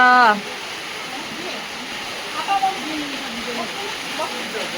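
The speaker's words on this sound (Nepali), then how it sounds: "पानी परिरहेको छ" Rain falling steadily outdoors during a Dussehra gathering, a broad even hiss of water with a brief voice at the start and faint chatter over it.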